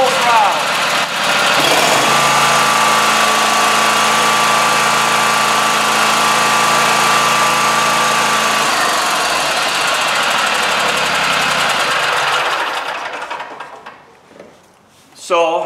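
A Scag Tiger Cat mower engine revs up to full throttle and holds a loud, steady high-pitched drone for about ten seconds before winding down and cutting off.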